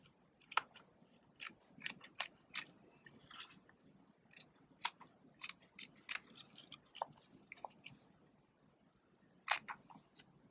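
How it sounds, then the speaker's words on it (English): Scissors trim ultra suede during bracelet beadwork, snipping close to the edge beads; repeated crisp snips come in uneven clusters, close and clear, with no speech. "You can always trim the ultra suede away more later"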